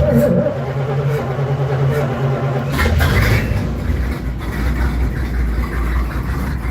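A car engine idles steadily and loudly up close, a low rumbling hum that continues throughout with a brief shift partway, and no speech over it.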